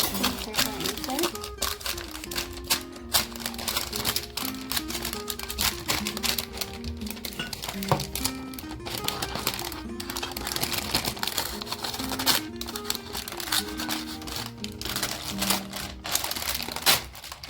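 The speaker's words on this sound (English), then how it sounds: "Place a baking paper inside." Baking paper rustles and crinkles as it is pressed and fitted into a buttered baking tin, steady crisp crackling throughout with a person talking over it.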